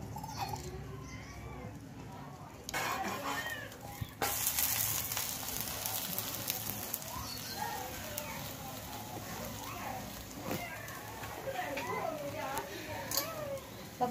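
Spices sizzle steadily in hot oil in an iron pan over a wood-fired stove, a continuous crackling hiss with occasional sharper pops, while a person talks throughout.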